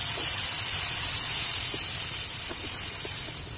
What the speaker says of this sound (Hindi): और मसालों को थोड़ी देर के लिए भूनेंगे।